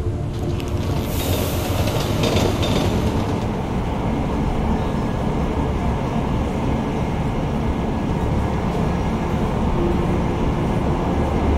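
A train ride in the video game Deus Ex: Mankind Divided, with a steady loud rumble of rolling rail cars and a brief hiss of wheel noise near the start.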